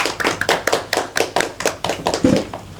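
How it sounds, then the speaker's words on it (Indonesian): A classroom group applauds another student group after their discussion, a short burst of steady, fairly close hand clapping with no talking over it. "Beri aplaus dulu"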